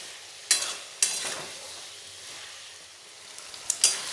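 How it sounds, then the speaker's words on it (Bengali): Vegetables fry with turmeric powder in a pan, a soft steady sizzle broken by sharp scraping and clanking spatula strokes that stir the pan a few times, close by. "হলুদ গুঁড়ো, দিয়ে খুব ভালোভাবে এই সবজিগুলো ভেজে নেব।"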